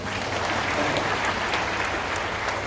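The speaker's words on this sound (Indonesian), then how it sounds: "Tepuk tangan dulu." Steady, dense applause fills a parish church as the congregation claps for the organizing committee at an anniversary Mass, continuous and fairly loud throughout with no speech.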